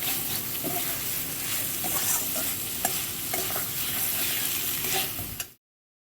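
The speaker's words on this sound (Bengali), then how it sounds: "এর ওপরে আমি ভেজে রাখা আলুগুলো এবার দিয়ে দিচ্ছি, দিয়ে আবার ভালো করে মিশিয়ে নেব।" Fried potatoes being stirred into cooked spices in a hot pan, a loud continuous sizzle with scraping spoon strokes throughout, cutting off abruptly near the end.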